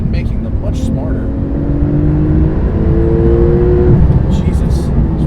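2018 Porsche 991.2 Turbo S with Sport Auto gearbox accelerating hard through the gears on a road around LA, its loud, close engine note climbing steadily in pitch, with a voice speaking over it.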